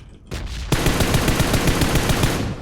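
Rapid automatic gunfire in PUBG Mobile, loud and close, starting with a short burst and then running as a steady stream of sharp shots to the end, with no talking.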